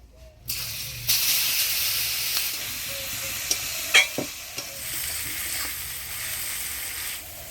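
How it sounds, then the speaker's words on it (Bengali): Whole cumin, bay leaf and dried red chillies dropped into hot oil crackle into a steady close sizzle, with a few sharp pops and a spoon clink over the hiss. "এবার ফোড়নে দিয়ে দেবো গোটা জিরা তেজপাতা শুকনো লঙ্কা"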